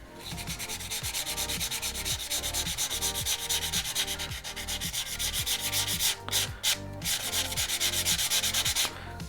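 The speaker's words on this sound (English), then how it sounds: "I do want to scuff up the tube a little bit." Rhythmic back-and-forth sanding scuffs the body tube of an Estes K-35 Astron Constellation model rocket, a steady close rasping stroke repeated many times with a brief pause near the end.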